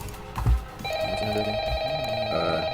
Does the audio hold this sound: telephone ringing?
yes